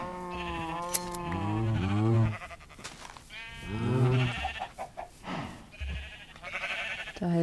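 Blocky sheep in Minecraft bleat repeatedly, several loud wavering baas spread across the clip over soft in-game ambience, with no talking.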